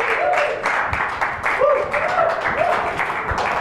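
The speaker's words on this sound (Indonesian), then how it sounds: "Yeay, tepuk tangan buat Abel" Audience clapping in a church service, a steady patter of many hands lasting a few seconds while a presenter's voice speaks over it.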